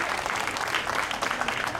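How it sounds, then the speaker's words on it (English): A festival crowd at the 2012 Alameda County Fair breaks into steady, dense applause during a vote of thanks, a continuous wash of clapping with no gaps. "If I could get a round of applause for him."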